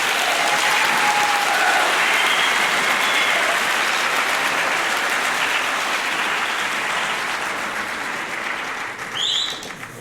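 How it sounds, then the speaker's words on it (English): Audience applause for a school band performance at a school event, steady dense clapping filling the room for about ten seconds, fading slightly toward the end. "Round of applause for the band."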